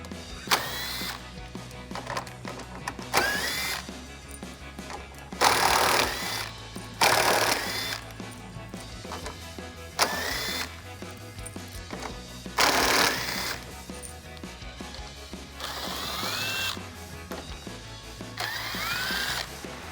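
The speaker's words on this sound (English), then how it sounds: "I'm just gonna use a 7mm socket to get those out" Power tool with a 7mm socket backing out bumper screws on a 2015-2022 Mustang GT, several whirring bursts of a few seconds each, separated by quiet gaps, close up.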